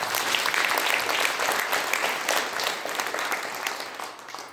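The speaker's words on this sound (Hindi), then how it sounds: "ताली बजा दीजिए।" Congregation at a church service applauding, a dense burst of clapping from many hands that holds steady and then tapers slightly toward the end.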